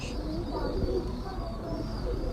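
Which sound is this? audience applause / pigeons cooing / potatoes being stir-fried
pigeons cooing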